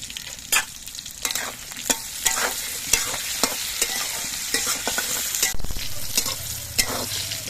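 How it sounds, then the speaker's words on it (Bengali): Eggplant pieces frying in hot mustard oil in a wok with a little salt, turned by a spatula: a loud, bright, crackling sizzle with frequent scraping strokes close by. "কড়াইয়ের তেলটা গরম হয়ে গেছে এবার বেগুনগুলো আমি তেলের মধ্যে দিয়ে দিচ্ছি"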